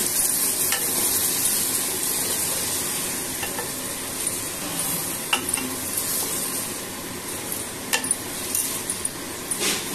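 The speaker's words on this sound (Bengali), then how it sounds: "গ্যাসের ফ্লেমটা একটু হাই করে ভালোভাবে নেড়ে নিব।" Cut potato pieces frying over a high gas flame for masala aloo bhindi, a loud continuous sizzle with stirring scrapes and a few sharp clinks of the spatula, nobody speaking.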